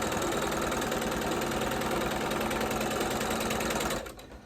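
Domestic sewing machine stitching a quilt block, a steady, loud, continuous mechanical whir with a rapid needle rhythm that runs alone for about four seconds, then cuts off abruptly into quiet.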